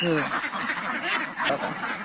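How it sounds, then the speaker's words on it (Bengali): Several ducks quack in a noisy overlapping chorus, close by and continuous. "তেনার প্রায় নয়শো হাঁস আছে প্রায় আটশো ডিম দেয়"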